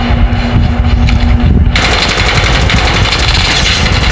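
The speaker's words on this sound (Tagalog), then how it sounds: "May putukan doon." Rapid automatic gunfire from Call of Duty Mobile, a loud, dense, continuous rattle of shots that grows harsher and fuller partway through, heard alone with no talk.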